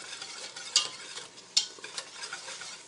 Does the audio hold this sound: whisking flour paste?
yes